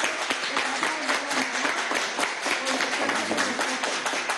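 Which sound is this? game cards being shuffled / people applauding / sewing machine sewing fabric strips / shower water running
people applauding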